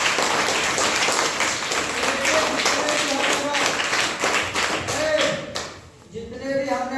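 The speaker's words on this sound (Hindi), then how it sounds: "शाबाश, जोरदार ताली बजाइए।" Schoolchildren in a classroom applaud loudly, a dense sustained wash of clapping that dips briefly near the end as an adult voice speaks over it.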